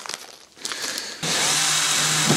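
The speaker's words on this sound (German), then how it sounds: "schraubt man hier jetzt ein" Cordless drill driving a screw into a small wooden raised bed: a few faint clicks and handling noises, then a sudden loud steady whir that holds through to the end, close to the microphone.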